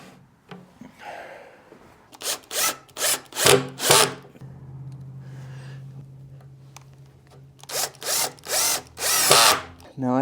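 A power drill drives screws into plywood while a Murphy bed cabinet is built, with loud close bursts of whirring in two clusters of short pulses and a quieter pause between them.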